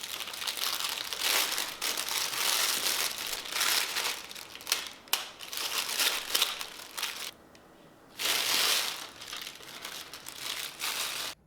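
Cream filling is spooned into a plastic piping bag for a no-bake peanut butter pie, giving steady close crinkling and rustling of the bag in bursts with a short pause, no talk.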